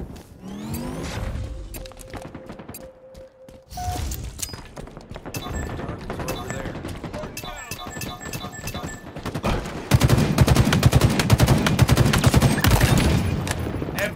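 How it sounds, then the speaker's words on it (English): In a ranked Oddball match of Halo Infinite on the Streets map, dense gunfire rattles in rapid bursts amid crashes and vehicle noise. The firing builds to a loud, continuous barrage near the end, with a game announcer's voice briefly heard. "Taking fire."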